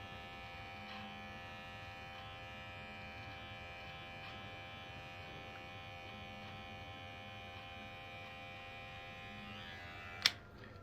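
An electric shaver buzzes steadily against a beard, close and continuous, with a brief sharp click near the end.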